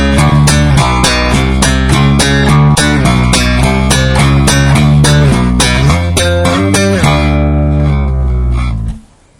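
Funk slap bass from a 1998 lesson, thumb thumps and index-finger plucks blended into a busy, syncopated line of percussive notes, played alone and up close, ending abruptly after about nine seconds.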